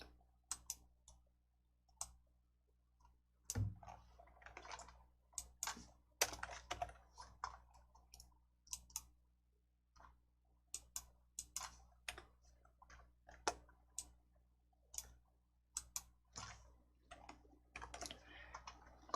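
Computer keyboard being typed on, with sparse, crisp individual key clicks and short bursts of keystrokes spread irregularly across a quiet room, including a Ctrl+F10 shortcut press.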